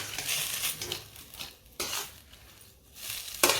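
Potatoes frying in a wok with crushed red chili and garam masala for kachori filling, stirred and scraped by a metal utensil: irregular clanks and scrapes over a soft, steady sizzle, close and fairly quiet.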